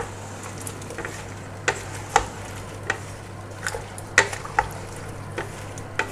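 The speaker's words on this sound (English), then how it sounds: "And all we do now is give it a good stir" Apple chutney with lemon juice is stirred in a pot over a low hiss of cooking, with a spoon scraping and knocking against the sides in irregular clicks, close and with no one talking.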